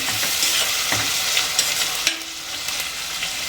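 Onions frying in oil for mutton keema biryani, a steady bright sizzle with soft scraping stirs and a few light knocks from the spoon against the pan, close up, with no voices.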